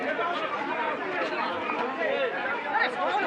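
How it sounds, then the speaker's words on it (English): Dense chatter from a large crowd surrounding the Chief Minister on a West Bengal election voting day, a continuous close, loud babble of many overlapping voices. "I understand it's a huge crowd and not surprising whatsoever."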